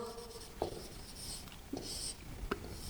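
Marker or chalk strokes on a board come quietly and close up as several short scratchy bursts spaced about a second apart, in an otherwise hushed room during a chemistry lesson on ions.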